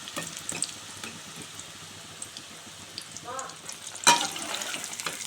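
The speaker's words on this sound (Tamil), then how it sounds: "ஒன்றா போட்டு பொரித்து எடுத்துக்குவோம்." Jackfruit 65 pieces deep frying in oil make a faint, sparse crackle and bubbling, with one sharper pop partway through.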